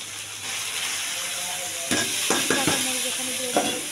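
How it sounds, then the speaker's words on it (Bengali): Spices fried together with washed, pre-fried mung dal, salt and turmeric, stirred in a pan: a steady soft sizzle underneath, punctuated by several close spoon-scraping stirs in the second half. "মশলাটা সুন্দর করে ভেজে নিচ্ছি।"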